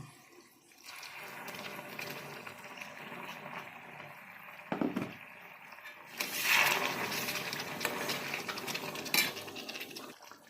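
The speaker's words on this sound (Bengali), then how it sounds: "এবার একটু গরম জল দিয়ে দেবো" Hot water poured into egg korma masala in a pan, a quiet liquid sizzle and splash with a few utensil clinks, rising briefly in bursts near the middle and later.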